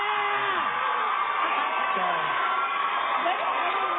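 A studio crowd at a reality TV eviction night cheers and whoops loudly and continuously, shouts and yells rising over a dense, steady roar of many voices.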